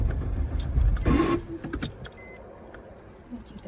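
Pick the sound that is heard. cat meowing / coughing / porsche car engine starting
porsche car engine starting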